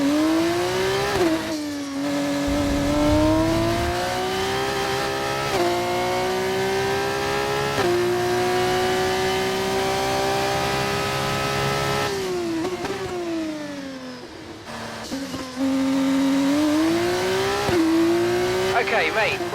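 Race car engine in the F1 24 video game during an F2 career race, a loud sustained high whine that rises and drops with gear changes and throttle lifts, with brief dips between shifts.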